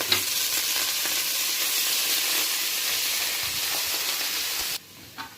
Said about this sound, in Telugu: ఇందులో కొంచెం పసుపు ఇంకా పుదీనా కొంచెము కొంచెం మెంతి కూర కొంచెం కొత్తిమీర ఇవన్నీ బాగా ఫ్రై చేసుకున్నాను